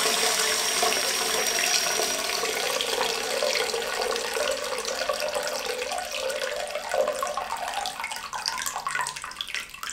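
A toilet cistern fitted with a new float valve refills with water, a steady loud rushing hiss that runs continuously for the whole stretch with no talk.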